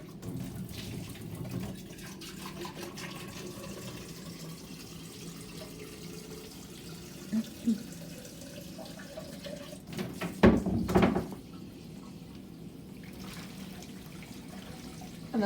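Tap water runs steadily into a darkroom developing cylinder to rinse out leftover developer, a continuous low rushing wash with a brief louder splash partway through.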